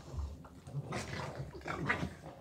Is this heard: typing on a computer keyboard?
no